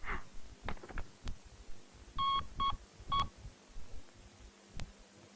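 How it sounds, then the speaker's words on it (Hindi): A telephone number is dialed to call a doctor, producing three short, clear touch-tone beeps in quick succession among quiet handling clicks. "रुको, मैं डॉक्टर को फोन करता हूँ।"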